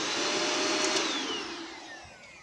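A Shark Rotator Powered Lift-Away vacuum cleaner runs alone with a loud, steady broadband whine that gradually eases off toward the end, with no voices.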